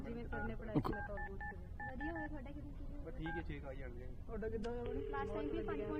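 A telephone is dialed, with a series of short keypad tones under ongoing talk and quiet background music, followed by a longer steady ringing tone.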